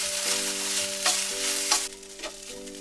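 Sliced okra (lady's finger) fries in a pan while being stirred: a steady, close sizzle with a low electrical hum beneath and a few sharp spatula scrapes about every half second.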